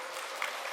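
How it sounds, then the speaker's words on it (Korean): Brief burst of applause from a church congregation during a Sunday worship service, a dense patter of many hands clapping at a steady level. "여러분의 격려의 박수 부탁드립니다"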